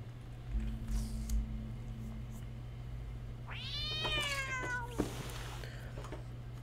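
A cat in the video game Stray gives a short series of clear, drawn-out meows in the middle of the clip, heard over a quiet steady game ambience hum with a few faint soft noises before.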